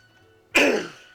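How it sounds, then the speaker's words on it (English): A person clears their throat with a single harsh, rasping burst that fades over about half a second, close and loud against near silence. "Just am coughing all over the place"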